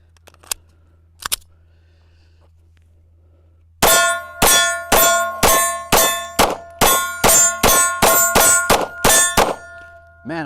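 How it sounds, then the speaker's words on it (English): Roughly a dozen sharp, metallic-ringing reports from a PSA Micro Dagger pistol, spaced in a fast uneven string after a couple of isolated shots, loud and close with no talk. "So let's take some more shots here."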